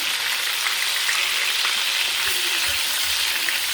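Oil fries loudly for chicken biryani, a dense, continuous hissing sizzle close up that stays even throughout with no talk over it.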